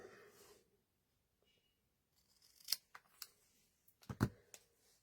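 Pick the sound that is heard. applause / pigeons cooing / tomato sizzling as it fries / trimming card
trimming card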